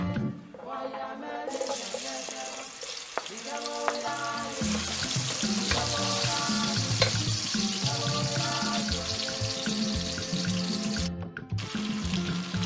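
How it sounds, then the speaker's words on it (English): Onion frying in palm oil, a continuous hissing sizzle close by with faint clatters and tonal ringing of cookware, loud and unbroken apart from a short quiet start. "So I fry my onion in the palm oil"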